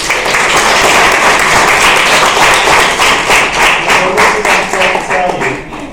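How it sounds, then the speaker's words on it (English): An audience at a national English public-speaking competition final applauds loudly and continuously, a dense wash of clapping that fades slightly toward the end. "let's give another clap to wish them good luck"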